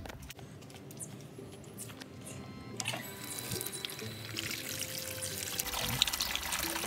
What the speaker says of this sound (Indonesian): Kemudian air yang di ember kita buang.